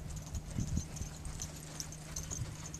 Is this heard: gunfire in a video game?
no